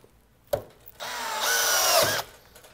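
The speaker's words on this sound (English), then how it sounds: "drove that screw no problem at all" A Milwaukee M12 FUEL installation drill/driver in speed 2 drives a screw, with a click, then a rising whirring motor for about a second before it stops.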